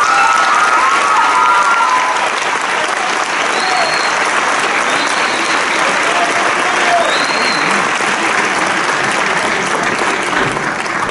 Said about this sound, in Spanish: Si podemos darle un fuerte aplauso,